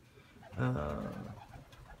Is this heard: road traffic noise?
no